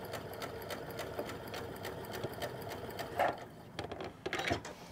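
A sewing machine stitches a French seam on an A-line skirt, a quiet steady rapid ticking of the needle running continuously, with a few fabric rustles and handling sounds near the end.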